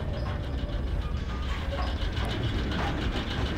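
A train rolls steadily through a scene in the video game Oddworld: New 'N' Tasty, a continuous dense rumble with faint clickety-clack, heard alone without talk.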